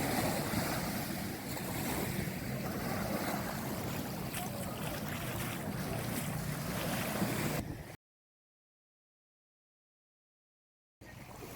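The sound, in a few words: boats and jet skis on the sea at Patong Beach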